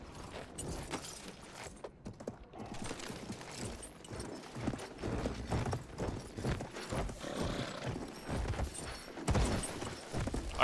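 Hooves clip-clop in a quick, drumming gallop in the video game Battlefield 1, mixed with rustling and mechanical clatter, with a brief whinny, fairly close and steady throughout.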